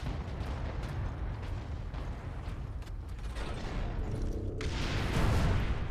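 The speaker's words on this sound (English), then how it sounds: "Power that cannon. Even a single shot will blast right through the gate." A cannon blast in the Warhammer 40,000: Space Marine video game comes through as a dense, continuous heavy rumble with crackling texture that swells louder near the end.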